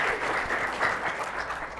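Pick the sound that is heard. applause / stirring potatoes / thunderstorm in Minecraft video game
applause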